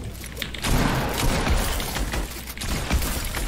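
Sharp bursts of rapid gunfire and impacts from an online Cash Cup tournament match, crackling in quick clusters over a steady rumbling game mix throughout.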